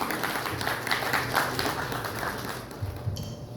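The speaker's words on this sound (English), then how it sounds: "Can we have a round of applause," Audience applause at the CSR Leadership Summit and Awards 2024 in Bhubaneswar, steady dense clapping from a crowd filling the hall with no voices over it.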